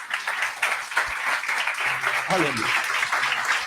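A church congregation applauds for Jesus during a Portuguese-language service, a dense sustained clapping wash with voices calling out over it throughout.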